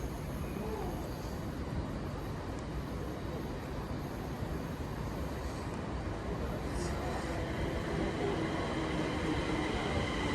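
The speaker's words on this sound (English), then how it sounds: "here comes my ride home in form of the 1511 London North Western Railway service from Crewe to" A London Northwestern Railway passenger service from Crewe to London Euston on the Trent Valley Line rolls in with a continuous rumbling roar of wheels and motors, steady and fairly near, and brief higher squeals partway through.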